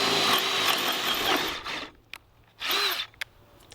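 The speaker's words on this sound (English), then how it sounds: "we're going to go ahead and get this 1/2 inch drilled" A Ridgid subcompact power drill bores a 1/2 inch hole in a loud, steady whine lasting over a second, then stops and gives a second short burst after a brief pause.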